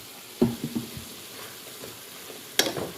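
A spoon stirring vegetables with barbecue sauce and ketchup in a sizzling pan, with two clattering scrapes against the pan over a soft steady sizzle, close up.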